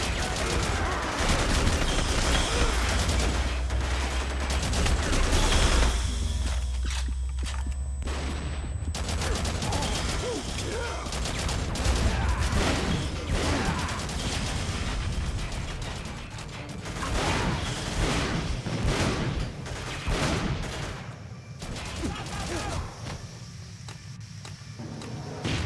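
Gunfire from the PS3 shooter Haze cracks in repeated volleys and bursts of rifle shots, loud and close, mixed with mechanical clatter and a few heavier booms over the stretch.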